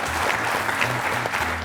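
Audience applause at a book-quiz semifinal show, a dense steady clapping from a crowd, continuous and fairly loud throughout the short stretch.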